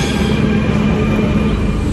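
Metro train running, heard from inside a carriage: a loud, steady rumble of wheels and motor with constant rail noise and no pauses, and no talking.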